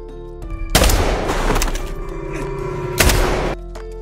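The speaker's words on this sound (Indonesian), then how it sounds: "Ketika mendengar suara tembakan" Gunfire in an action film: a burst of loud, crackling shots and a second sharp blast a couple of seconds later, heavy and reverberant with no voices.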